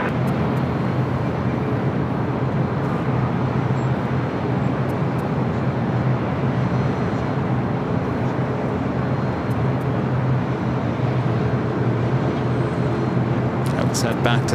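A United heavy airliner takes off at LAX, a loud, unbroken broadband jet roar sustained throughout with little change in level.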